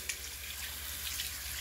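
Running tap water hisses steadily into a sink for rinsing shaving lather off, a continuous close wash of flow with no speech.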